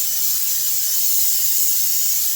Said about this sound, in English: Spray the pan all the way around.